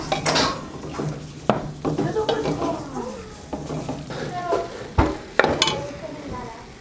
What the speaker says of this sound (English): to this I'm going to add some flour, and I'm also going to add some frozen corn